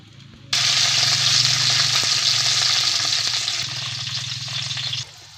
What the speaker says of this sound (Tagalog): at nakasalang na nga rin ang aking piniprito